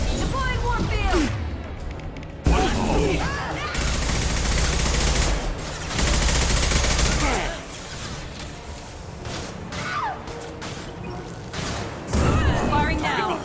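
Rapid bursts of gunfire from the video game Mass Effect 2, loud and dense, with sustained volleys, booms and mechanical clatter running for most of the stretch and brief gaps between bursts.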